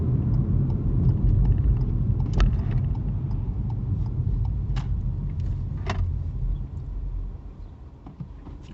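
Ford Fiesta Trend 1.1 accelerating up to 60, a steady low engine and road rumble from inside the cabin, with a few faint clicks over the drone as it slowly eases off.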